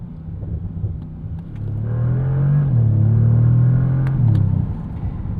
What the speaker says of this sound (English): You've got some beautiful burbles from this exhaust, the Special Sport exhaust.